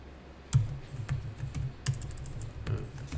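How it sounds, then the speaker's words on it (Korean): Computer keyboard typing during an accounting software lesson, a few distinct close key clicks and taps spaced irregularly over a low room hum, with no voice. "이렇게 타자하시고"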